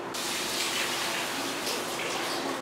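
Chicken stock and beer poured into a cooking pot for quinoa, a steady continuous splashing gush of liquid throughout, fairly close and unbroken, with no talking.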